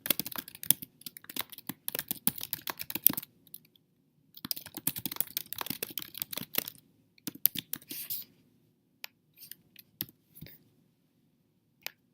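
Typing on a computer keyboard while entering a social media post: bursts of rapid key clicks in two main runs, then a few scattered isolated taps, close and clear with no talking.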